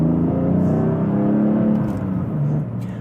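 Deep, steady exhaust rumble from a car with its exhaust valves open, idling or cruising with a continuous low drone and slight swells, close and fairly loud throughout.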